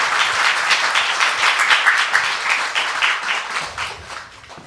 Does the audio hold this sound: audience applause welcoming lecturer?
yes